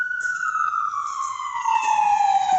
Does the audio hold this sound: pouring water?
no